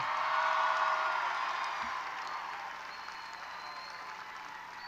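A graduation audience applauds for Chisholm Trail Middle School principal Steve Swain, with steady clapping from a large crowd that slowly fades.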